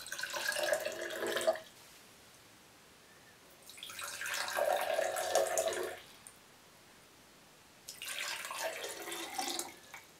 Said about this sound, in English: pour water into the glasses.